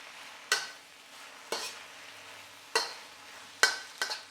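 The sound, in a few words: stir-frying vegetable chow mein noodles with spring onion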